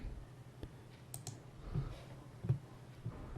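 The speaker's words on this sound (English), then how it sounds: "Just double left click it to unzip or unrar it." Computer mouse buttons clicking, a few sharp, quiet close clicks spaced across a short stretch over faint room hum.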